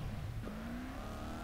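A car engine driving in a Gangster Vegas style video game, a quiet continuous motor hum with a rising then steady tonal whine as it accelerates, heard on its own.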